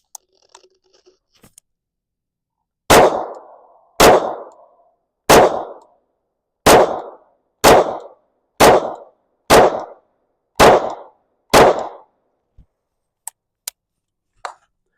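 A Glock-magazine pistol fitted with a Recover Tactical brace fires at a target from 12 yards: eight loud, sharp shots at an even, roughly one-second pace, followed by a few faint clicks.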